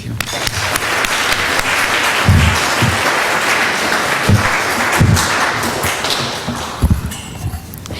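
Audience applause welcoming Janet to speak at a monetary policy event, a steady full round of clapping from a crowded room with some voices mixed in and a few footsteps and thumps.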